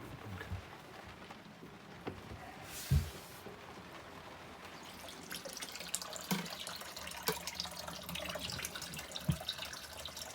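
Water runs and splashes steadily as a sailboat deck is rinsed off to collect rainwater, a soft continuous trickle broken by a few louder splashes and knocks.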